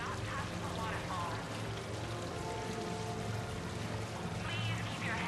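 Steady water pours from a Hanar urinal waterfall on the Citadel in Mass Effect 3, a continuous trickling stream under a repeating announcement voice.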